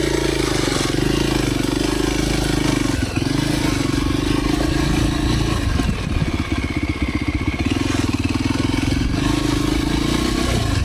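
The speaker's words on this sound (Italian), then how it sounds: "Che bella la moto leggera" Light motorcycle on a muddy dirt track in Congo, its engine droning loud and close throughout, pitch shifting with throttle changes, with clattering and scraping of the bike over rough ground.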